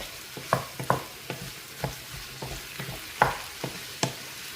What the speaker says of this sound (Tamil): இது வந்து முட்டை அடை ஊற்றுறதுக்கு வெங்காயம் வதக்க போகிறேன்